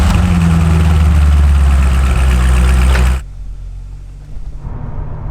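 A stock 2007 Chevrolet Corvette C6 Z06 engine running, a loud close low rumble that drops abruptly partway through to a quieter idle-like hum.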